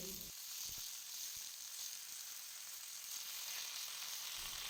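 Garlic, green chillies and leaves sizzling in a little hot oil, a close, continuous bright hiss of frying with a few faint clinks early on and no speech.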